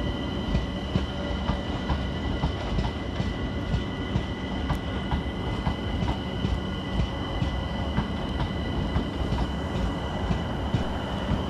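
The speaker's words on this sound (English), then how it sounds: "Next train to depart with the 1921 London Overground service to Stratford is 378-220." A London Overground Class 378 electric train departs Clapham Junction station, its wheels and carriages rumbling steadily and close, with rhythmic clicks over rail joints and a faint high tone running throughout.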